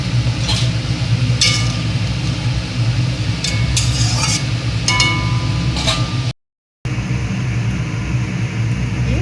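Hilsa fish curry sizzles and simmers in a pan as fried fish is added and a utensil stirs, with a few sharp metallic clinks against the pot.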